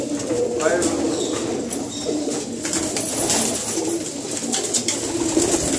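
Several pigeon hens coo in a loft, a steady low murmur of soft cooing with occasional wing flutters, heard throughout at moderate volume alongside faint background talk.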